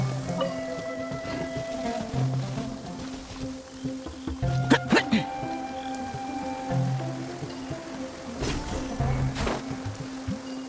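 Rainfall in Genshin Impact, a steady wash of falling rain with scattered drip and splash details, moderately loud and unbroken, layered with low ambient game tones.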